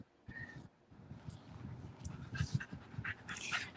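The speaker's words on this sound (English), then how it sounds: "my little dog's in a grumpy mood, so he keeps griping at the younger one" A small dog grumbles, whines and pants at a younger dog, a low, close, continuous muttering with brief higher yips, in a quiet indoor room.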